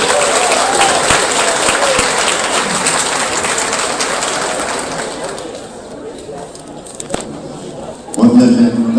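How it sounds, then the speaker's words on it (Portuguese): Loud, dense audience applause at a talk welcoming a speaker to the stage, steady for several seconds and then thinning out, before a close voice begins near the end. "Eu peço então uma salva de palmas e convido Elson Faxina."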